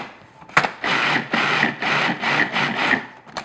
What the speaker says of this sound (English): now all we're going to do is pulse this until it kind of forms like crumbs